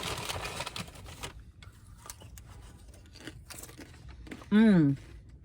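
Close, crunchy chewing of freshly popped popcorn with crackly bites, accompanied by people talking nearby at a general store.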